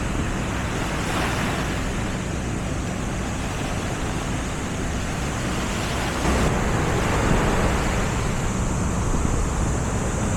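Ocean waves at Sabang beach near Puerto Princesa roll in a continuous broad wash of surf, loud and steady, with wind buffeting the microphone and no one talking.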